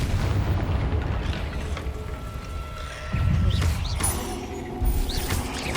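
Confringo fire spell blasts in the video game Hogwarts Legacy, booming explosive hits with rumbling bass amid continuous combat sound effects, loud and close.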